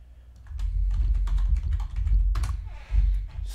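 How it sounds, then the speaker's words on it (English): Typing on a computer keyboard, a quick, irregular run of close, crisp key clicks with brief pauses between bursts. "Sorry, you can't see this typing."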